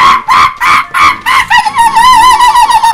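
Cartoonish chickens in the Plants vs. Zombies 2 video game, loud and close, a run of rhythmic clucking bursts followed by a warbling, crow-like squawk.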